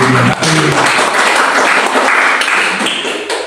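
Applause from a congregation at a worship service held in an apartment in Jakarta, a dense wash of many hands clapping that stays loud and steady throughout, with a brief voice at the very start.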